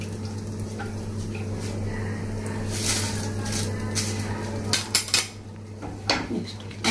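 Spices fry in a pan for a home-style Karnataka dish, with a soft steady sizzle under light clinks of a spoon or utensil against the pan and a constant low hum in the background.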